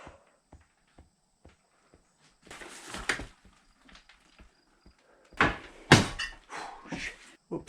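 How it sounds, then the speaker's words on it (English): An old door in an abandoned house creaks and knocks in a few scattered thumps, followed by louder scraping and banging bursts as it is worked open, close by and with no voices. "Don't know why this door was shut."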